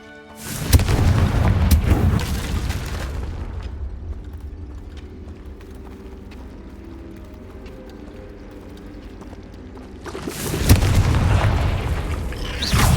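The Bombarda blasting spell in the video game Hogwarts Legacy goes off as two loud booming explosions, one at the start and another near the end, with a quieter rumbling stretch between them.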